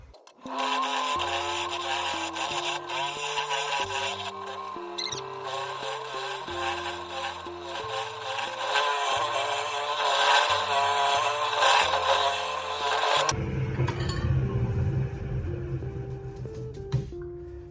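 A wood lathe turns a wooden pet urn, the rough rhythmic chatter and scraping of a gouge against the spinning blank running continuously, loud and close, with a shift to a duller rumble near the end.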